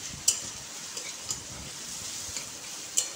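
Food frying in a pan at home, with a soft steady sizzle, quiet background hiss and a few sharp clicks of the utensil stirring against the pan.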